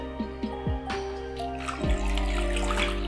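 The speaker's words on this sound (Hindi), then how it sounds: "इसमें हम पानी डालेंगे" Water pours and splashes into a container of tamarind pulp and melted jaggery, building to a steady gushing stream toward the end, with some clinking at the start.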